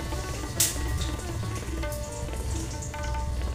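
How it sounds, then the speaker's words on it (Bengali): Whole dried red chillies dropped into hot oil as a tempering, a dense close crackling sizzle that holds steady throughout, with one brighter burst of spitting near the start and no talking. "গোটা লঙ্কা ফোড়ন দিচ্ছি।"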